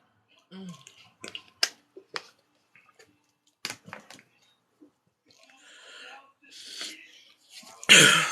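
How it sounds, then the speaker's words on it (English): Scattered soft throat sounds and short bursts, then one loud, harsh cough close up at the end. "Let me just cough this out"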